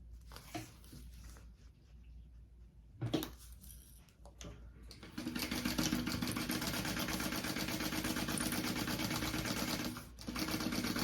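A sewing machine stitches a bag panel to the bottom of the card slots at full seam allowance, faint at first with scattered handling noises, then running steadily and continuously for several seconds.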